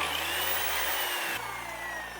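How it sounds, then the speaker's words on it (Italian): A 1200-watt bench saw switched on and running, a loud, steady motor whine with a slight shift in pitch partway through. "Proviamo la sega da banco, proviamo se si accende."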